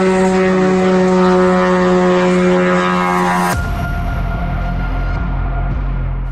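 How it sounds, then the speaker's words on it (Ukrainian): An Iranian Shahed-136 kamikaze drone flies overhead with a loud, steady propeller-engine drone that holds for several seconds, then shifts abruptly to a rougher, broader roar as it passes. "в оригіналі це перефарбований дрон Камікадзе Шахет 136"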